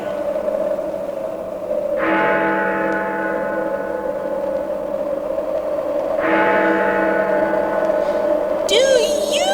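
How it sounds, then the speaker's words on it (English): A church bell tolls twice, each stroke ringing out with a long, slowly fading hum over a steady background drone, followed by a brief swooping tonal sound near the end. "the bell tolls"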